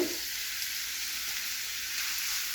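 Onions frying in a pan with a constant, close, hissing sizzle that holds steady throughout.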